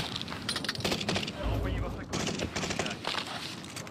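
Rapid gunfire in a video game, crackling bursts of shots in quick succession with a voice talking over them.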